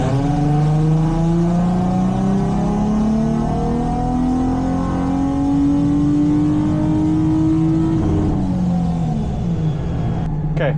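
A supercharged flex-fuel Nissan 350Z engine revs hard on a dyno, its loud, steady drone climbing smoothly in pitch for about eight seconds before dropping off as the throttle closes near the end.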